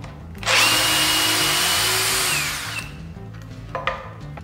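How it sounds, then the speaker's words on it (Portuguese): An Einhell 18V brushless cordless drill backs out a screw, a single loud, steady high-pitched whir of about two seconds that starts abruptly and then cuts off, followed by a few faint clicks and handling sounds. "Vou estar desparafusando agora."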